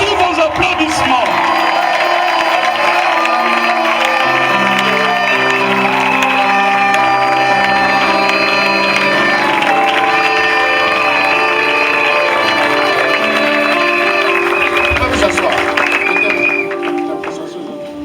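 A crowd at a French-language national prayer gathering applauds and cheers to welcome Dr. Michel Bandefou, loud and continuous, with music playing underneath and scattered shouts and whoops.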